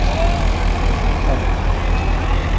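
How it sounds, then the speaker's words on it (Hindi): Sonalika and Mahindra 575 tractor engines run at 1500 RPM in low gear during a rotavator and tiller demo, giving a loud, steady, low diesel throb with regular pulsing and no voices over it. "ट्रैक्टर दोनों 1500 RPM पे लगा के छोड़े गए पहले के लो गियर में।"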